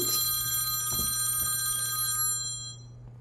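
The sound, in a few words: camera ringing like a telephone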